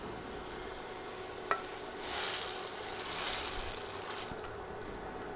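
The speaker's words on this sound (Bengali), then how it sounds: "বাদামি হয়ে গেছে, এখন এগুলো রান্না হতে থাকা ডালের উপর দিয়ে দিব।" Browned garlic tempering is poured onto simmering dal, giving a soft steady hiss with a sharp clink early on and two gentle swells of sizzle, close and fairly quiet, with no talking.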